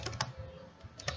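Fingers tap on a computer keyboard in quick, uneven bursts of soft clicks, close and quiet, with short pauses between keystrokes and no voices.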